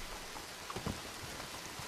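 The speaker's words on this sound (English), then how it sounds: "It's raining" Steady rainfall in Red Dead Redemption 2, an even hiss of rain on surfaces with a few soft drops standing out, heard alone without voices.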